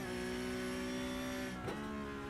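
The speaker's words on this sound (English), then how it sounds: "There you go. There's the gear change." A Porsche Cup race car at Summit Point, its steady high engine note dropping abruptly for a downshift around the middle of a short, loud passage, with a brief burst of broadband noise at the shift.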